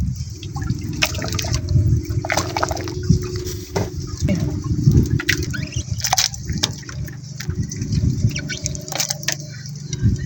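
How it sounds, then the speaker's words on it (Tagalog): A pot of boiling water bubbles and churns while fish are dropped in during an outdoor catch-and-cook of matambaka, with a steady turbulent seethe, splashes and intermittent clinks and knocks close by. "Kulo na yung tubig. Ilunod na natin yung isda."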